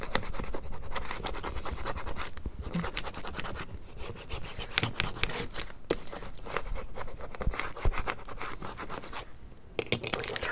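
Cricut vinyl being burnished down with Cricut transfer paper on a canvas frame, a steady close rubbing and scratching that runs throughout with brief pauses and a few sharper scrapes.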